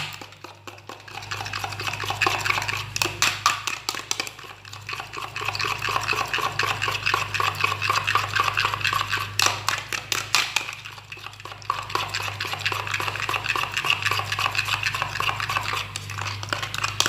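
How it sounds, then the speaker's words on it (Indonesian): A spoon or fork steadily stirs and whisks a mixture of egg and carrot in a bowl, with continuous rapid clinking and scraping close up and no talking. "Diaduk-aduk sampai merata."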